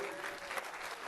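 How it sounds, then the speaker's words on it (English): An audience at a tech conference claps hands in a brief, dense burst of applause, steady and fairly distant. "Clap your hands."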